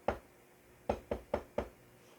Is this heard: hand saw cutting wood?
no